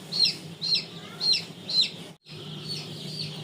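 Tiger breed chicken chicks give four evenly spaced, high, bright chirps close by, then a short break before softer continued peeping over a low background hum.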